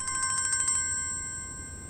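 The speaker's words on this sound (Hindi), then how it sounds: "लो भाई साहब की कॉल आ गई।" A phone ringtone for an incoming call, a rapid electronic trill pulsing about eight times before cutting off, leaving a lingering tone; close and clear, with no talking.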